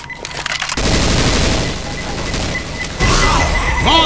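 Loud, dense gunfire and a heavy blast of a grenade explosion fill a hectic zombie-shooter battle in Left 4 Dead 2, with sustained rapid bursts and a second surge of shooting near the end.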